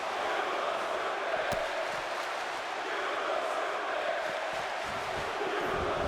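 Arena crowd in WWE 2K18 chanting during a Sheamus versus Rusev match on RAW, a dense, steady roar of voices filling the whole clip with no clear breaks.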